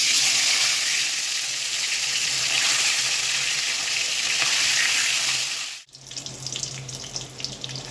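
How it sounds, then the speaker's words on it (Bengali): Egg frying in hot oil in a wok, a loud steady sizzle and crackle that runs unbroken for nearly six seconds, then cuts off abruptly and returns quieter and more uneven. "ডিমটা ভাজতে দিয়ে দিই"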